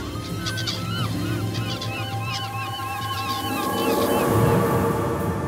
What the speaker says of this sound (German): Heerscharen von Möwen sammeln sich vor der Gletscherkante.